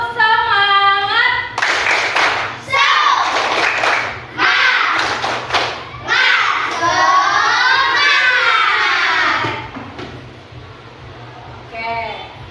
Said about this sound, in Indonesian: coba aku pengen tahu tepuk semangatnya bagaimana. Tepuk semangat.